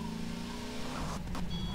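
In a World War II–era roleplay video game, a car engine hums briefly and fairly quietly as the vehicle drives off, with a few sharp clicks near the end.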